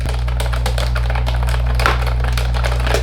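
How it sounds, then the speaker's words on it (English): Rapid, clattery key presses on a computer keyboard, close and loud, with a steady low hum underneath. "Here's the old keyboard,"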